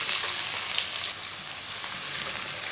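Chopped onion frying in about half a cup of hot oil with whole coriander seeds and cumin, a steady bright sizzle that stays loud and even throughout, with no voices.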